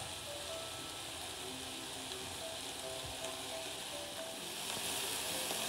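Chicken pieces brown in a hot pan for a chicken Romano dish, giving a steady, dense sizzle and crackle that holds level throughout with no voices, swelling slightly louder toward the end.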